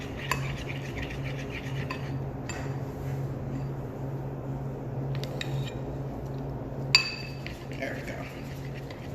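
A utensil stirs buttercream in a bowl, producing soft repeated scraping with a few sharp clinks against the bowl and a brief spoken remark near the start.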